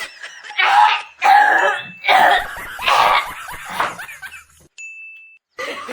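A woman gives a series of staged, exaggerated coughs at home, about five loud, harsh bursts in a row, followed by a brief electronic beep, with no other voices.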